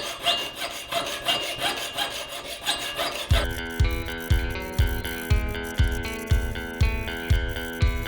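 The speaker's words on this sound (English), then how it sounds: "I'm going to cut the excess silver off around these bezels." A jeweler's saw cuts excess silver from around cabochon bezels, first with a fast, soft rasping, then with slower, regular strokes that ring with a metallic tone, close up with no talking.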